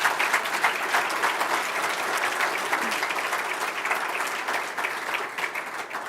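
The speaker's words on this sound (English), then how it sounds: "The applause is really for her" A gala crowd applauds at a scholarship event, a full and continuous patter of many hands clapping at moderate volume that holds evenly throughout and fades a little at the close.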